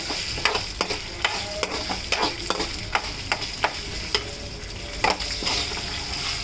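Curry leaves frying in a pan, a bright continuous sizzle punctuated by regular sharp spoon taps and scrapes as they are stirred, close and fairly loud.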